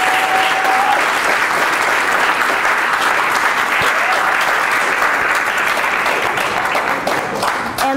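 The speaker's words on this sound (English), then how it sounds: "Let's give them a big round of applause for hosting us." Loud, dense applause from a crowd at a youth tech graduation ceremony, sustained clapping that fills the whole stretch without a break.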